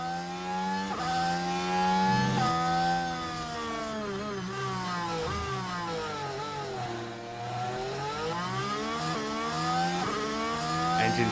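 Racing engines from the F1 Manager 24 video game at Sakhir scream continuously at high revs, pitch repeatedly rising and dipping through gear changes, loud and alone.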